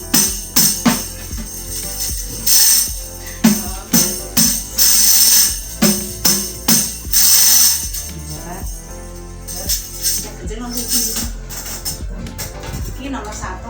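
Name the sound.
rebana frame drum with ser jingles played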